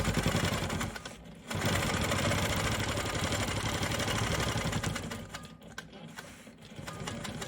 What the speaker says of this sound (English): I'm going to go ahead and quilt all the way around this little stem part.